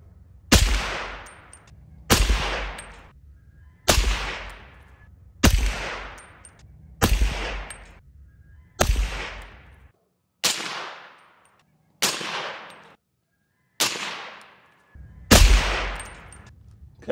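Ten supersonic rifle shots fired in turn through Dead Air Sandman S and Aero Precision Lahar L suppressors, each a loud sharp crack with a short decaying tail, spaced roughly every one and a half to two seconds outdoors.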